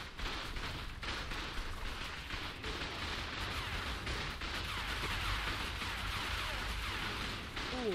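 Dense, sustained gunfire and explosions rumble through a video game raid, loud and continuous for the whole stretch with no clear breaks between shots.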